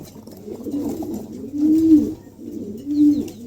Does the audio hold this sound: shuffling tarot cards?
no